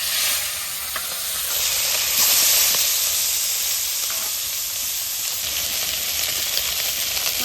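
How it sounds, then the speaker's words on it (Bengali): Fish sizzling in hot mustard oil in a village kitchen pan, a loud, steady hiss and crackle of frying that goes on throughout with small bursts, and no talk. "তেল গরম হয়ে গেছে, মাছ দিয়ে দিব।"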